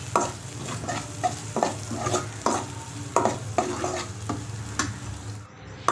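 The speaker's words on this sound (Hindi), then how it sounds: "अच्छे से इसको भून लेते हैं, फिर इसमें टमाटर डाल देते हैं" Tomato paste sizzling and frying in a pan while a spoon stirs it with repeated scraping strokes, close and steady with no talking.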